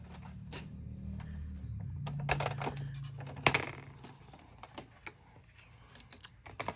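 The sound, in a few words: cutting out paper shapes with dies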